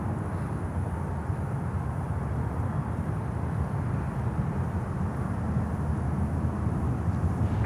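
Steady, loud broadband jet roar from an Airbus A330-200 freighter at Miami airport, a continuous even rumble with no talk over it.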